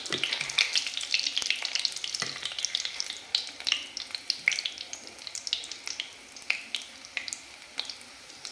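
Health-mix flour being sautéed in ghee over low heat for gulab jamun, a soft sizzle under frequent light scraping and tapping strokes of a spoon, irregular and close.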